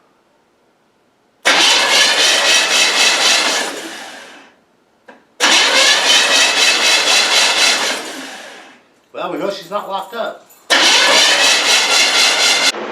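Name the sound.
old car engine cranking over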